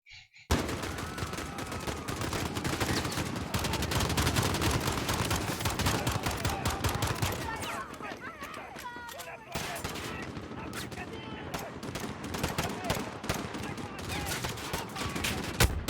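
Gunfire in the Call of Duty Modern Warfare campaign, dense bursts of automatic fire and explosions sustained and loud throughout, with a brief lull midway before the shooting resumes.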